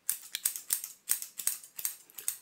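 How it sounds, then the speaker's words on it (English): Two pairs of scissors used at once snip in a steady rhythm, about a dozen crisp close-up cuts in quick succession through hair, with no voices. "I'm just gonna use the both scissors at the same time"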